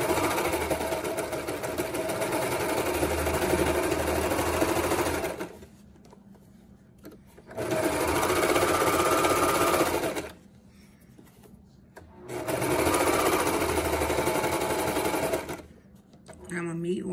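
A sewing machine stitches a circle skirt in three long, steady whirring runs, loud and close, separated by short pauses.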